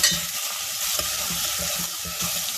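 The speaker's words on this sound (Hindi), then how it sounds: "प्याज को थोड़ी देर हमको भूनना है" Onion and green chillies frying in hot oil in a pan, a steady sizzle broken by a few soft stirring scrapes, close and fairly quiet, with no talking.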